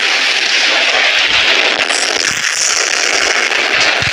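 An ultimate ability in a Roblox battle game unleashes a loud, dense barrage of crackling, popping blasts that continues without letup.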